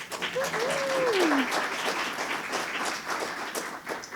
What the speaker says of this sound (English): So, round of applause and welcome.